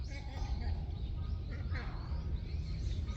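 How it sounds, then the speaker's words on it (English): A duck chasing away a crow outdoors, giving a short burst of harsh, nasal quacks at moderate distance, with a person talking over and around the calls. "That was a duck chasing away a crow, and that sounded really funny."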